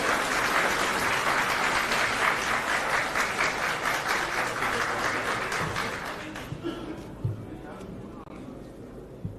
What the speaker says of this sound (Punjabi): ਤਾਲੀਆਂ ਮਾਰੀ ਜਾਣ ਪਲੀਜ਼